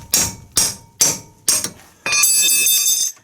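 Four sharp, evenly spaced hammer blows ring out close by against the brake caliper bracket of a 2014 GMC Sierra, followed by a longer metallic ringing clang.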